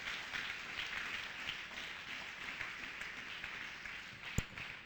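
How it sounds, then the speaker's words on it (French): Sustained applause from a church congregation, steady and moderately distant, with one sharper clap or knock standing out near the end. "Applaudissez Jésus, alléluia"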